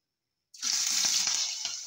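Chinese pechay spinach hits hot oil and fries into a loud, steady sizzle that starts abruptly after a brief silence and crackles on without pause, with no voices.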